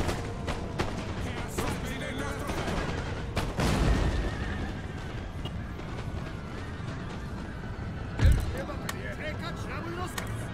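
Muskets and artillery in an Empire: Total War battle, with booms and scattered shots heard near and far among horse whinnies and hoofbeats. A louder blast lands late, and voices talk over the fight.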